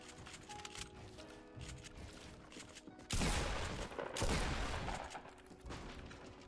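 Pump shotgun fire in the Fortnite battle royale game, with heavy blasts booming out in quick succession amid game noise, the loudest shots landing in a tight cluster near the end.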